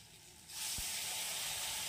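Tamarind water hits a hot pan of frying broad beans and brinjal curry, setting off a sudden loud sizzle that rises from quiet cooking and holds steady, close up.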